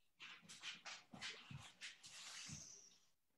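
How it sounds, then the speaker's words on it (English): A dog chomps and gnaws on a bone close by: a quick, uneven run of crunching bites lasting a few seconds, with no talking. "My dog has decided that now is the perfect time to start chomping on a bone."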